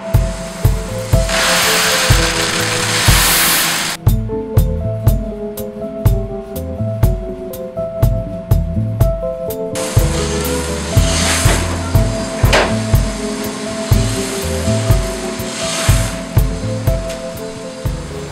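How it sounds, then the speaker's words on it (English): A large gas-fired revolving drum coffee roaster runs steadily, its tumbling drum making a loud, continuous churning roar with regular rhythmic knocks and rattles throughout. "the coffee roaster is basically a big revolving tumble dryer, but a little bit more hardcore, gas fired, so it packs a wallop."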